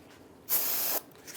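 A single half-second burst of aerosol cleaner hisses loudly up close onto a Toyota Tundra drum brake backing plate, then stops, leaving quiet room tone.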